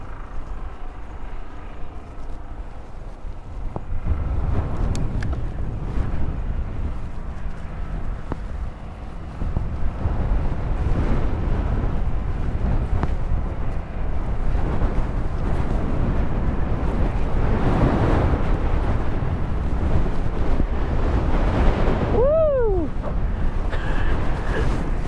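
Strong coastal crosswind buffets a cyclist near Dundee and Arbroath, a constant loud roar of wind against the microphone throughout, with a brief tonal whine near the end.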